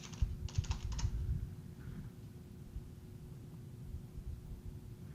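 Quick bursts of keystrokes on a computer keyboard as a password is entered, a few clustered clicks near the start, then a quiet hum with faint scattered taps.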